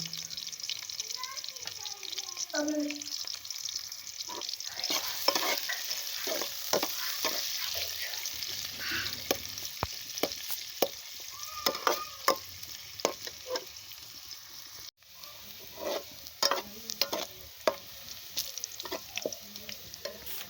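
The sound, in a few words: onions frying in oil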